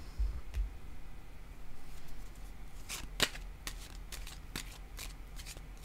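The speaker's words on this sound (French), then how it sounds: "Je vais déposer une autre carte." Tarot cards being handled and laid down on a table, a few soft close shuffling slaps and light clicks spaced apart in a quiet room.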